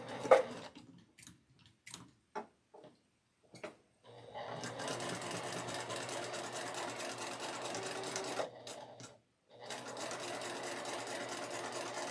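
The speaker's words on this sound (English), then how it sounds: "we want to sew align a stitch from this corner to this corner" Sewing machine stitching a line corner to corner across a quilt scrap placemat, a steady close whirring run after a few short taps, pausing briefly then resuming; no talk.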